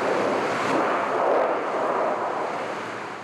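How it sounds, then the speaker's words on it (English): Strong wind from Cyclone Ita roaring through Port Douglas, a dense, continuous broadband rush that holds loud and steady for several seconds, with buffeting against the microphone and no voices. "as Cyclone Ita blew through Port Douglas"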